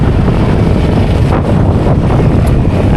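Strong wind buffets the microphone outdoors with a loud, continuous roar and rumble that never lets up.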